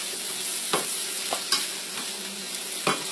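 Carrots and broccoli sauté in a pan over a little under medium heat, a steady sizzle with a few sharp scrapes and clacks as the vegetables are tossed, close and alone.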